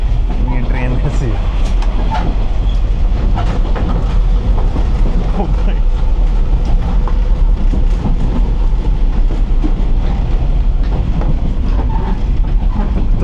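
A train passes through rural Japan, loud and close, with steady rumbling and clattering wheels on the rails throughout, while someone talks over it.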